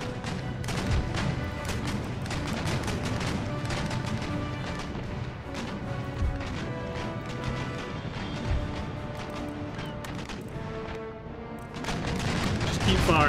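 Naval cannon fire in Empire Total War rings out in repeated heavy booms and cracks, some overlapping in volleys over a constant battle din, with a voice talking over it.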